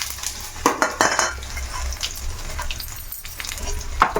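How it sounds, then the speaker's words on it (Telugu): Cumin, mustard seeds, dried chillies and garlic crackle in hot oil, a close sizzle with sharp clinks of a utensil on the pan scattered through it. "జీలకర్ర వేస్తున్నాను ఆవాలు ఎండుమిర్చి ఎల్లిపాయ"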